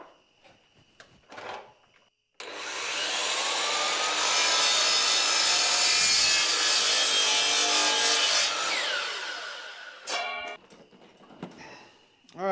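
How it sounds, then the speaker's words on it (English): A miter saw cuts through a small piece of hickory wood, a loud sustained whine and grind of about six seconds, preceded by a short motor start and followed by the blade spinning down with clunks. "we'll cut a little piece of hickory"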